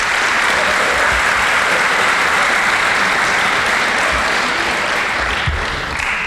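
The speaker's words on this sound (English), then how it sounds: "I'd like to offer them a round of applause as well." Loud sustained applause from a school audience at a high school academic awards ceremony, a dense, even roar of many clapping hands that continues unbroken and eases slightly near the end.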